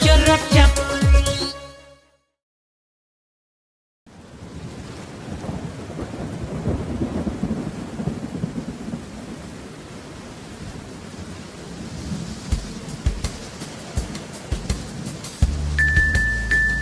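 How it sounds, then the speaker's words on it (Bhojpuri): A rain and thunder sound effect in a children's song starts after music ends and a brief silence, giving a steady rain hiss with low rumbling, until the music comes back at the end. "झम झम झम झम बारिश आई,"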